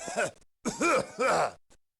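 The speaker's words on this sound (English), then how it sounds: "Dang this cough." A video game character in Skull Cracker lets out a few rough, throaty coughs and groans in quick bursts, close and fairly clear, with a brief short hack trailing off at the end.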